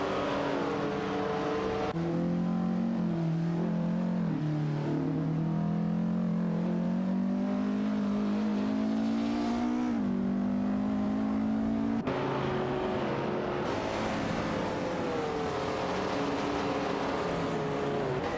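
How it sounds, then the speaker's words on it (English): Video game race with a Lancia Stratos and an Alfa Romeo Montreal, engines loud and close, revving through rising and falling gear changes with abrupt shifts in sound, no voices. "Fiery piloting a Lancia Stratos and Feds in an Alfa Romeo Montreal"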